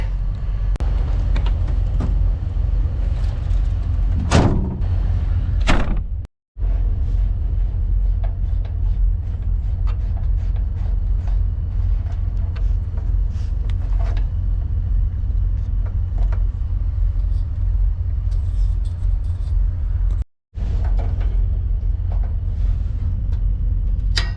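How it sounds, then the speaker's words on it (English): Steady low engine rumble of idling trucks at a truck stop, heard from inside the back of a closed truck, a constant loud drone with occasional brief clanks and two short dropouts. "we are really at a truck stop. This is gonna be noisy."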